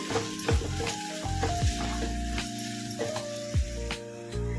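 Steady oil sizzle in a pan with a spoon scraping and stirring chili powder, cumin powder, salt and garam masala several times for a gongura paneer curry, close and fairly loud, no voices.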